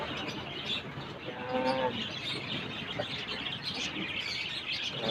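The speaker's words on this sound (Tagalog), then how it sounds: "Malaki ito kalapate ito. Pang-racing ito." Racing pigeons and other birds in a pet shop chirp and coo over a busy, noisy background, with a brief spoken word near the start.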